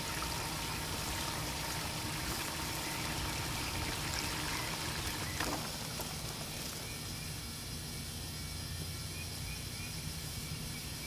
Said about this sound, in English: Let all the water clear out.